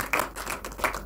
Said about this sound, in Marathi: आपण सगळ्यांनी एकदा प्रसादसाठी जोरदार टाळ्या वाजवल्या